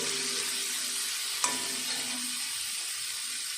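Masala frying in oil for a rohu fish curry, a steady close sizzle with a single sharp clink of a utensil partway through, no voices.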